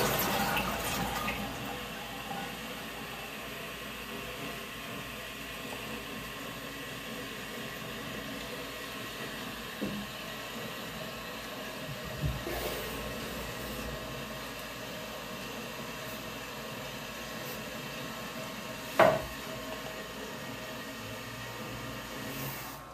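Steady rushing water from a Niagara Stealth toilet after a fill-valve repair fills the space as the bowl flushes and the tank refills, a continuous hiss with a few small knocks and one sharp click, no talking.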